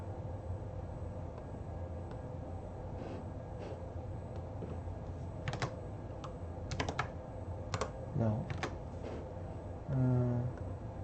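Quiet computer keyboard typing, a few scattered bursts of keystrokes in a calm room, faint and close, with a low background hum.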